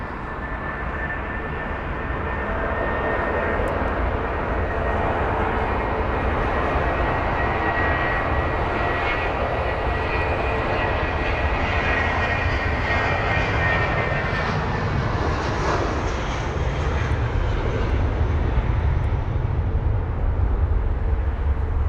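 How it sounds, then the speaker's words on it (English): An Airbus A320 in oneworld livery moves at London Heathrow with a continuous loud jet engine roar and rumble, steady across the whole stretch and swelling slightly toward the end. "the Airbus A320 with the One World liveries on the move as well"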